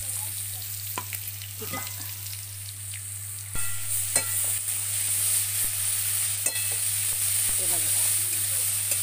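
Onion with a ground coconut, coriander, garlic and ginger masala fries in a pan with a soft continuous sizzle and occasional scraping and tapping of a spoon, close and moderately quiet, over a low steady hum while someone speaks briefly.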